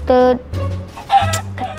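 A chicken clucks in Minecraft, a few short bright clucks spaced through the moment, mixed with low game noise and a voice speaking underneath.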